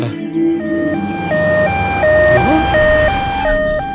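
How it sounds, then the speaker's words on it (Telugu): An ambulance siren from a comic film scene sounds as a steady, stepped two-tone wail that alternates high and low pitches in a regular rhythm. It is loud and continuous, with faint background noise underneath. "అంబులెన్స్ అనగానే అలా వచ్చేసింది."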